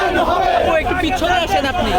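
A protest crowd chants slogans at a street march, a loud massed chorus of voices rising and falling in close rhythm with no pauses.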